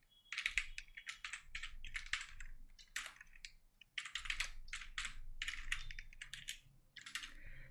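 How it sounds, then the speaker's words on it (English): Steady bursts of typing on a computer keyboard while entering text in DaVinci Resolve 15, close and clear, rapid clicking in two runs separated by a brief pause, with no voice over it. "So I'm typing"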